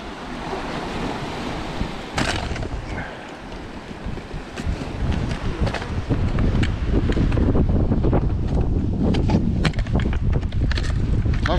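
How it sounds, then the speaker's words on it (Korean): Strong winter wind blows hard across a seaside breakwater, buffeting the microphone with loud gusty rumble over a backdrop of sea noise, with sharp cracks and knocks scattered through it. "지금 이 바람은 동풍같이 불거든. 너무 많이 날리네."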